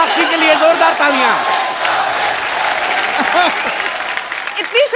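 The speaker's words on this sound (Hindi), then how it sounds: "जोरदार तालियां" A studio audience on a comedy show applauds and cheers loudly and continuously, with voices shouting and whooping over the clapping.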